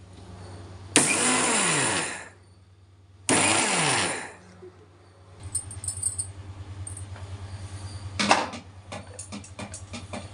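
A mixer grinder powders sesame seeds in two loud bursts of a few seconds each, the whirring motor cutting off between runs, followed by quieter rattling and clinking.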